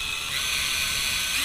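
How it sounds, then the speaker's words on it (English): A power drill boring pilot holes for screws into a wooden shutter stile, a steady high-pitched whine held for about a second and a half at close range with no talk. "drill pilot holes for the screws"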